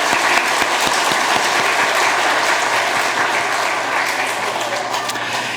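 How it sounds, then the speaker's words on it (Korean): A church congregation at a Sunday morning service breaks into a sustained, loud round of applause, many hands clapping densely, with a few sharper claps standing out near the front before the sound eases slightly toward the end. "우리 다 함께 영광의 박수 한번 하겠습니다"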